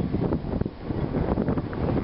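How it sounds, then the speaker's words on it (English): Strong wind buffets the microphone with a steady, rumbling roar and gusty low thumps, no voices present. "Windy."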